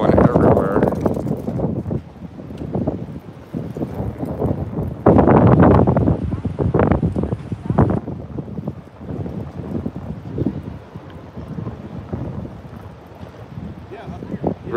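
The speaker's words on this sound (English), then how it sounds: "The the wind out of control right now." Strong gusting wind roars through the Las Vegas Arts District at night around a burning power pole, a broad rushing hiss that swells and buffets the microphone, with people talking over it.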